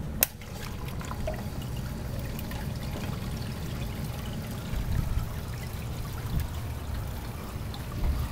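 Water runs steadily from a tap while a protein skimmer's collection cup is cleaned out, a continuous close pour and trickle with a sharp knock at the start and faint clinks along the way.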